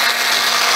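An electric mixer whirs at a steady high pitch, whisking a single egg yolk for sauce, loud and close, with no voices.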